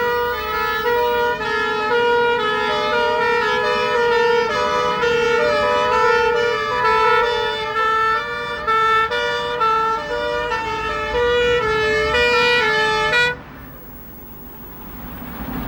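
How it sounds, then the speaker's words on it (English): Fire engine sirens wail loudly and continuously from a command vehicle, hydraulic platform and pump engine responding to an emergency call during a drill at an industrial tower block, cutting off abruptly near the end. "A command vehicle, hydraulic platform and pump engine respond to a call."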